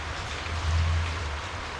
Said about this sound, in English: the rain came down